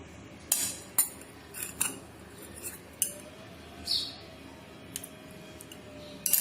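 A spoon mixes ginger in a bowl, giving about a dozen sharp, close clinks and taps at irregular intervals against a quiet room background.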